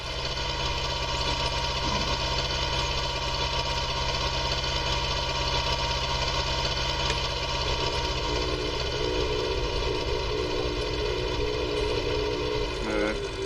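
A David Brown farm tractor idles steadily, a loud continuous diesel drone with a constant mechanical hum and faint knocking for the whole stretch, no voices.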